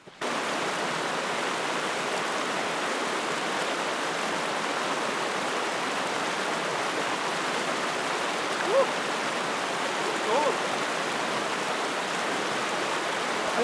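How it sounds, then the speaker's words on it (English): A mountain stream in the Rawah Wilderness of Colorado rushes in a steady, dense broadband wash, loud and close, continuous for the whole stretch with no voices over it. "All right, water."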